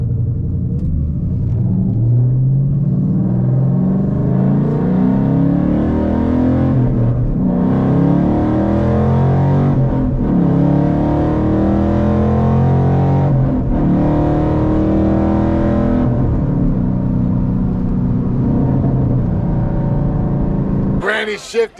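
A 2014 Ford Mustang GT pulls out from a crossroads at about three-quarter throttle. Its engine drone rises in pitch through several gear changes, loud and steady for about twenty seconds before cutting off abruptly at the end.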